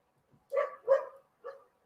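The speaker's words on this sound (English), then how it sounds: "Dog barking outside." A dog outside barks three times, two quick barks and then a third after a short pause, faint and somewhat distant against a quiet background.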